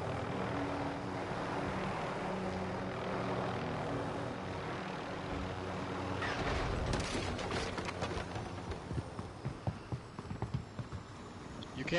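Helicopter in the Call of Duty Warzone video game, a loud continuous rotor and engine roar close by that grows busier with rapid thumping and clattering bursts toward the end.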